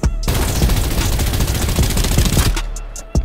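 Rapid automatic gunfire in the video game Farlight 84 rattles in a dense, continuous loud burst for about two and a half seconds, then cuts off, followed by a single sharp shot.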